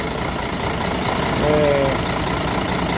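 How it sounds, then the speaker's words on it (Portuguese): A 1969 Scania 110 truck with a turbocharged engine idles close by, a steady low rumble running throughout, with a brief tonal whine in the middle. "Scania 110, ano 69, motor turbinado"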